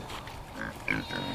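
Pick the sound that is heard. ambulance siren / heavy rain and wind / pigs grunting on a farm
pigs grunting on a farm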